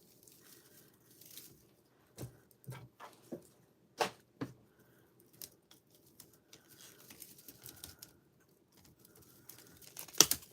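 Scissors snip a small red paper tag into pieces, a handful of faint, crisp cuts spread over a quiet background with soft handling noises in between.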